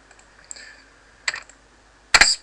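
A few scattered keystrokes on a computer keyboard while entering a Linux command: light isolated clicks, then a sharper pair of taps at the end, close and crisp in an otherwise quiet room.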